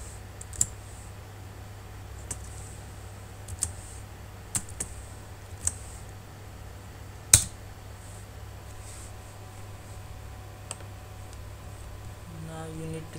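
Isolated keystrokes on a computer keyboard as a command is typed into Command Prompt, sparse clicks spaced a second or more apart with one sharper key hit, close and fairly quiet over a faint steady hum.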